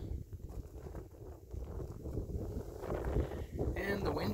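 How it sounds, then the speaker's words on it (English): Outdoor wind buffeting a microphone at Cranberry Flats, a steady low rumbling roar that swells louder toward the end. "And the wind is back."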